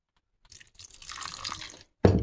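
Water is poured onto washed sago in a bowl to soak it, a short soft splashing trickle followed by a louder brief splash, close by with no talk.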